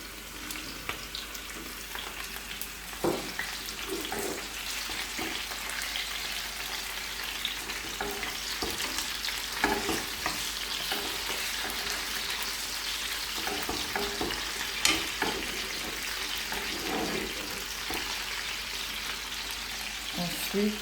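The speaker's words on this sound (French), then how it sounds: "Donc ensuite, je vais venir mettre les poivrons." Bell peppers sizzle and fry steadily in a pan for a fish recipe, with occasional scraping stir strokes rising over the continuous close crackle; no talking.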